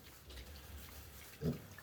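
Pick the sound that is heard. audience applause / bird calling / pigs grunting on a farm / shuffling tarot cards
pigs grunting on a farm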